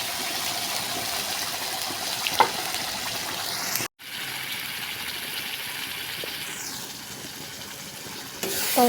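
Ground spice paste hits hot oil in a pan with a loud, close, continuous sizzle and spatter that stays steady throughout, with a brief break midway and no voices.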